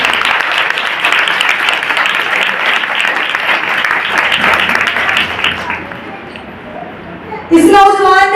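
A church congregation applauds together, dense sustained clapping for about six seconds before fading, after which a voice begins speaking over a loudspeaker.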